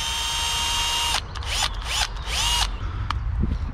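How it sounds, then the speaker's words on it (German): An electric power drill whines steadily, then is triggered in several short bursts that spin up and wind down, close and clear with no talking. "Dann haben wir hier die gute alte Bohrmaschine, die auch jeder kennen sollte."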